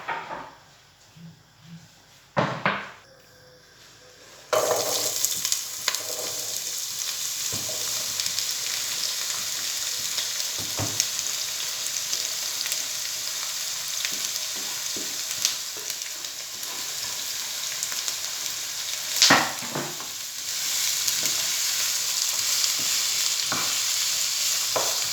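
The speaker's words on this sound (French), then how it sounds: "On va bien faire revenir nos poivrons et notre oignon." Sliced peppers and onion sizzle in olive oil in a paella pan, a loud steady frying hiss with occasional stirring scrapes, after a brief quieter start.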